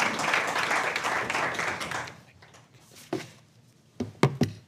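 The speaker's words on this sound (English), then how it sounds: "Give him a round of applause." An audience at a lecture applauds loudly for about two seconds, then the clapping fades to a few scattered claps and knocks.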